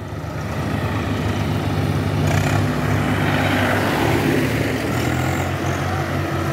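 A Swaraj 744 XT tractor engine labours steadily while hauling a load of 5000 bricks up onto a highway, a loud continuous low drone that swells slightly midway with no talk over it.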